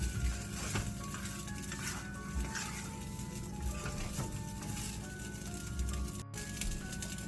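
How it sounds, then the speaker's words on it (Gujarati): Dal fry is stirred in a cooking pan over a gas flame, with soft scraping and gentle sizzling at close range, fairly quiet and steady with no talking. "અને એને હલાવી લઈશું આપણે."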